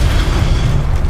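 A Confringo explosive spell blast in Hogwarts Legacy lands as a loud, deep rumbling boom that fills the whole short moment without any talk.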